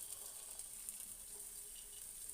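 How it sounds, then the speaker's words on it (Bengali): Lentil vadas deep-frying in hot oil give a steady, even sizzle with fine crackle throughout, heard alone and no one speaking. "তো এবার আমরা বড়াগুলো ভেজে নেব।"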